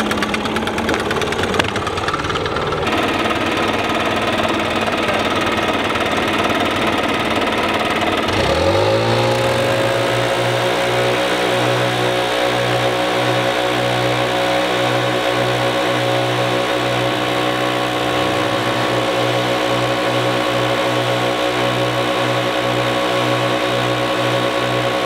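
A Stihl BR800C backpack leaf blower starts up and runs steadily at full power outdoors, a loud continuous engine drone with a whooshing air rush that holds for the rest of the span after a quieter opening.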